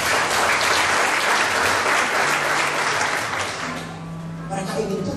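Loud congregation applause at a church service in Bandung, a dense burst of many hands clapping that thins out near the end as voices and a sustained tone emerge.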